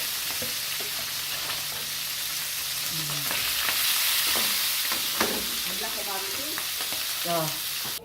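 Steady, close sizzling and crackling of fish frying in a pan, with occasional scraping and clinks of a utensil stirring.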